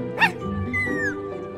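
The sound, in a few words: puppies barking in video game Minecraft Story Mode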